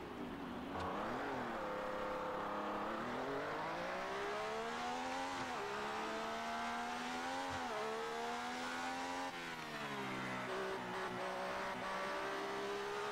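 Race car engine from the F1 2018 video game, driven continuously with a loud, rising and falling whine as it accelerates and shifts gears, close and steady throughout with no talking.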